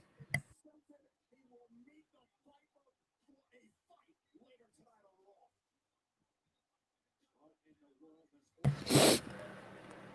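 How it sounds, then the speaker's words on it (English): A single loud sneeze close to the microphone, coming after a stretch of quiet, faint muttering. "I have to sneeze"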